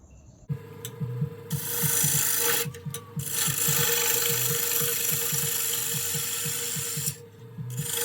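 Wet Canadian ambrosia maple is rough turned on a wood lathe, the gouge chattering in a rapid rhythmic knock as the blank spins, with a steady motor hum beneath and a couple of brief pauses.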